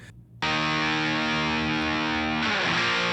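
Distorted electric rhythm guitar plays a sustained, thick chord alone after a brief quiet start, loud and dense with a shift in tone near the end.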